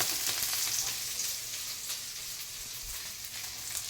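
Onion, green chili and tomato fry in oil in a pan with mustard seeds and curry leaves, a steady bright sizzle that eases slightly midway, close and continuous, with a clatter at the end.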